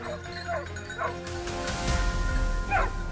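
Hunting dogs bark and yip at wild boars in rough outdoor terrain, a few sharp bursts spaced through a noisy field background, moderately close and fairly loud.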